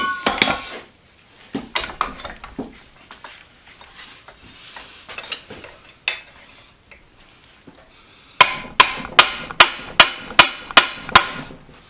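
A hammer pounds a heated wrench flat on an anvil, irregular metallic strikes at first, then a fast, evenly spaced run of loud ringing blows near the close.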